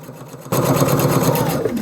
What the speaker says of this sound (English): So these long strips, I'm just matching up the edges and sewing my seam.